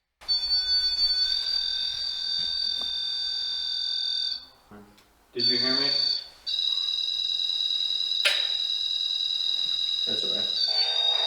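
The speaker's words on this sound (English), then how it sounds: "REM pod's going off." A REM pod ghost detector alarm shrills in a loud, continuous electronic warble, briefly breaking off mid-clip before resuming, while a person speaks over it.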